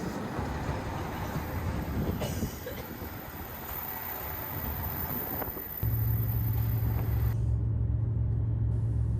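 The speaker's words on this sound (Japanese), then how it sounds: "乗ってる列車は特急うずしお16号高松行きとなります。" A JR Shikoku limited express Uzushio train runs toward Takamatsu in Tokushima, giving a continuous rumbling roll that steps up into a louder, steadier hum partway through, with no voices.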